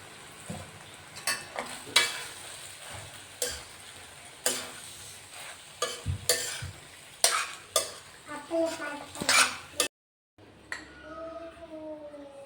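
Pasta tipped into a pan of tomato gravy and stirred, with repeated sharp scraping and clinking of a spoon against the pan, close and rhythmic, followed by a softer stretch with a faint voice.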